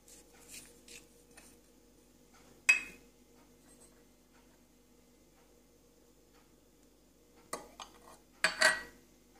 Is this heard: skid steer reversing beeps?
no